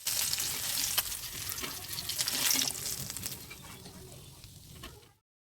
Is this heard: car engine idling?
no